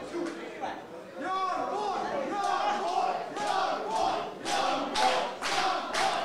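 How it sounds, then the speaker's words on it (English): Crowd at a live professional wrestling match roaring and shouting, loud swelling cheers with rhythmic clapping bursts and thuds near the end, mixed with excited voices. "Listen to that crowd."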